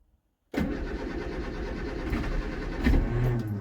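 A Vauxhall Viva HC, laid up for a few weeks, starts on choke: after a silent moment the engine cranks and catches, then runs at a loud, rough, steady idle close by.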